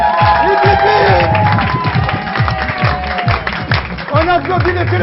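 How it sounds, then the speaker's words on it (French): A birthday-special television studio audience cheers and shouts with scattered clapping, loud and close, while voices call out over the crowd throughout. "On applaudit le service Canal 10 Télévision."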